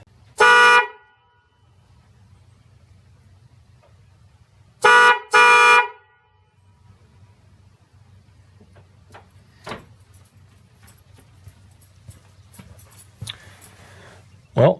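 An installed Harbor Freight #99911 car horn honks loudly in three short blasts, one alone and then a quick double, with a low engine idle rumbling underneath and a few faint clicks and knocks between.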